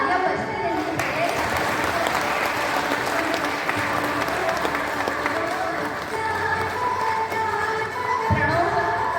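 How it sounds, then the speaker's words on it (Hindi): A crowd at an event in Pune claps in a long, even round of applause, dense and continuous throughout, with a few voices and tones faintly mixed in. "तालियां बजती रही है।"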